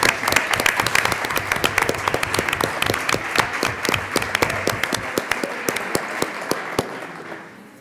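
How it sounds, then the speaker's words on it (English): Clapping at a school board of education meeting honours junior high staff, a dense, sustained round of applause from a room of people with sharp individual claps, fading out near the end. "we'll give them a round of applause"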